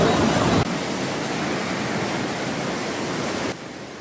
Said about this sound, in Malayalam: ഈ ജാതി വെള്ളം വരികയാണ് എങ്ങനെ നിൽക്കുക?